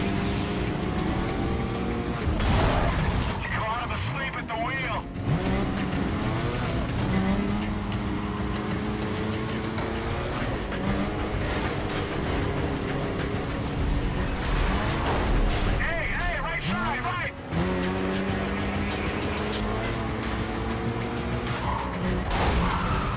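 Cars race in the Need For Speed Carbon video game, with loud revving engines and repeated tire squeals and skids that fill the whole stretch.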